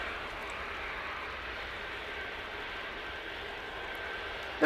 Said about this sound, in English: there is a plane there, we're not just watching trees